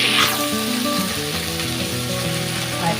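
Fish fries in hot oil with a loud, steady, close crackling sizzle that holds throughout.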